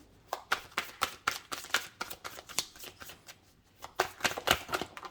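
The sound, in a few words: tarot cards being shuffled and drawn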